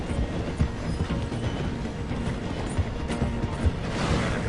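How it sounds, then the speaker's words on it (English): A steam train in the Red Dead Redemption 2 video game slows through a station, its wagons rumbling with rhythmic clickety-clack and mechanical clanks, loud and close, with no talking. "The train is slowing down to go through the station."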